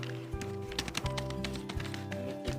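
Rapid keystrokes on a full-size computer keyboard hooked up to a phone, steady close clicking and tapping over a continuous low hum, with no talk.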